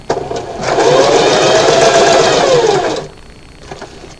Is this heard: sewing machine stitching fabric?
yes